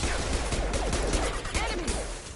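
Gunfire in the Mass Effect 2 video game, a dense burst of rapid shots and impacts crowding together over a couple of seconds, loud and close.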